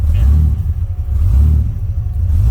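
A car engine revs through a straight exhaust, a loud, close, deep rumble that rises and falls in a steady throaty drone.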